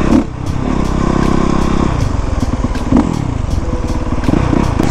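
A Honda 450 motorcycle rides with a loud, steady engine drone and gear clatter, holding a constant roar throughout with slight shifts in pitch and no talking.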